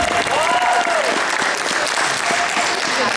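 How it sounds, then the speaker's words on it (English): Audience clapping at an anime convention voice actor panel, dense steady applause from a crowd throughout, with a few voices and whoops rising above it. "everybody clap for the guy who's ready"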